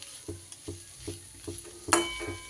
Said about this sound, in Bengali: একটু নেড়ে চেড়ে একটু ভাজা ভাজা মতো এটা করে নিতে হবে